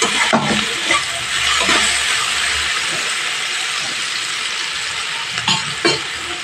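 Radish greens and potatoes fry in a pan with salt, producing a steady loud hiss-like sizzle. Occasional scraping stirs and a few clinks of a spoon against the pan break through it.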